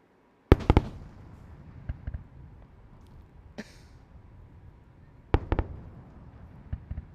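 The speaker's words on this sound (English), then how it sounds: "we certainly heard those sonic booms here at the KSC press site" Returning SpaceX Falcon Heavy side boosters deliver sonic booms heard from a distance at the Kennedy Space Center press site, sharp cracks arriving in clusters, two near the start and a pair later, over a steady outdoor rumble.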